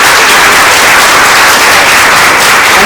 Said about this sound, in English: If you would give them another round of applause.